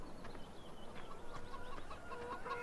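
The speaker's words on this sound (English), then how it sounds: "Some chickens in there." Chickens in the farm video game Farming Simulator 17 cluck faintly in scattered short calls over a soft ambient background, with no voices.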